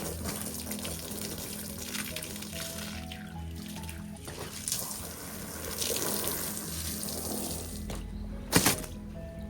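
Running water pours and splashes steadily over a carpet being washed and turned, a close, continuous wash with a brief louder splash near the end.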